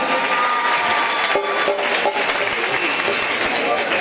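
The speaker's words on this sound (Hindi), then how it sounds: "और ये एक छोटी सी बच्ची ने पोर्ट्रेट बनाया, जोरदार तालियां।" A crowd at a Delhi government school event applauds loudly and continuously, with some cheering and voices mixed into the dense clapping.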